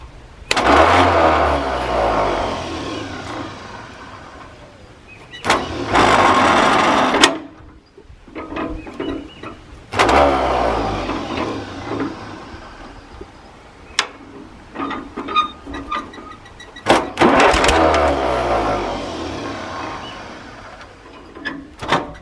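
An old tractor engine with a worn ring gear and Bendix cranks in long grinding bursts, stopping and retrying several times with uneven chugging as it tries to catch, loud and close.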